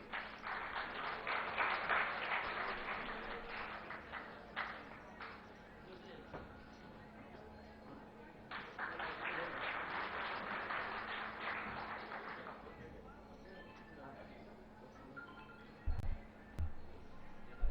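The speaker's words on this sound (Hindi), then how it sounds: "तालियां सतत बजती रहनी चाहिए।" An audience at a political panel discussion claps in two bursts of scattered applause separated by a quieter stretch, heard from a distance with a low hum beneath.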